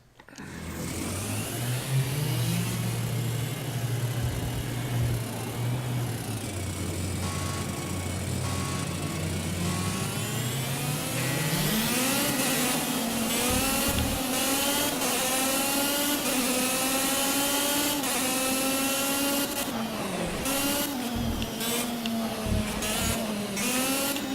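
Formula One racing car engines scream and rev continuously in Project CARS on Xbox One, with rising and falling pitch as gears shift, loud and steady throughout with no talking.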